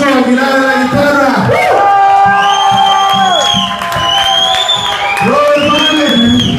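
Crowd cheering and whooping at a rock concert, loud sustained shouts and raised voices filling the space, with a voice calling out over the noise.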